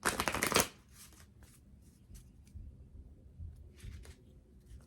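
Moonology oracle cards are shuffled close up, a quick riffling burst at first and then softer scattered taps and slides of the cards. No voices.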